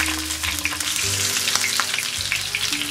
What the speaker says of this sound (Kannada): ಎಣ್ಣೆ ಕಾದ್ಮೇಲೆ ಅದಕ್ಕೆ ಆರರಿಂದ ಏಳು ಉದ್ದದಾಗಿ ಹೆಚ್ಕೊಂಡಿರೋ ಹಸಿರು ಮೆಣಸಿನ್ಕಾಯಿ